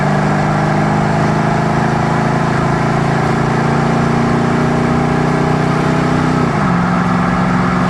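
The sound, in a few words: V8 car engine and exhaust accelerating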